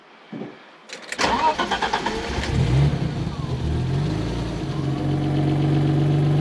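A BMW E30 fitted with a programmable K-Data engine management system cranks with a starter whine, catches and settles into a steady, loud idle up close.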